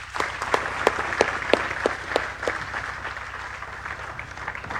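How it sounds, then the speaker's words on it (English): A seated audience at a NEET felicitation ceremony applauds steadily, dense clapping with sharper individual claps standing out, loud and close throughout with no speech. "Again, a great round of applause for Marufa from our end."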